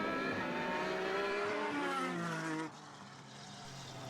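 Dallara and Formula Renault single-seater race cars at a Formula BOSS Ireland race; a close, high-revving engine whine holds steady, then drops sharply as a car passes, leaving a fainter engine drone.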